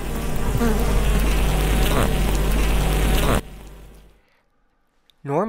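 Honeybees in a hive make a loud, continuous buzzing hum that cuts off abruptly, followed by near silence and then a short, rising electronic-sounding beep of the stop signal at the very end.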